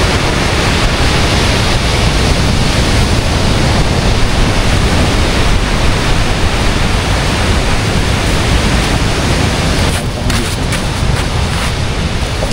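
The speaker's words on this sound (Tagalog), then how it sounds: "sobrang galit ng dagat" Rough, angry sea surf at San Narciso beach in Zambales, a loud continuous roar of crashing waves mixed with wind buffeting the microphone, with no break in the rumble.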